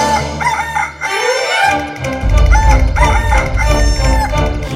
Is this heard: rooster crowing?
yes